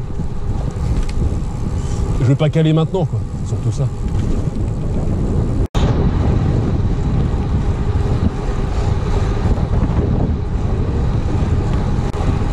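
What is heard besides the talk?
wind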